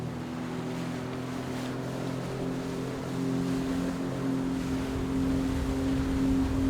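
A jet ski runs across the sea off Langkawi, Malaysia, its engine droning steadily and slightly rising in pitch, mixed with wind and water rush, with no talking.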